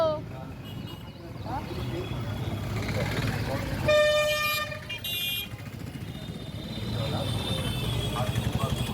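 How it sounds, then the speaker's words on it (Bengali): Cars stuck in a traffic jam honk, one loud horn and then another sounding near for about a second each over constant engine rumble while someone talks. "তাই এতটাই গাড়ি চলছে যে আমি কথাগুলো আমার কিছু শুনতেই পারবে না তোমরা।"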